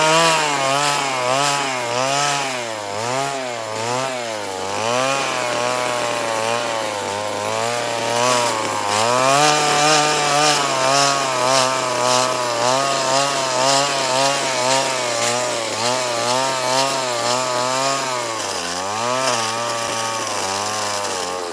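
A chainsaw carves a six-foot wooden bear with a loud, continuous buzzing whine, close by, its pitch rising and falling as the cuts bite and ease off.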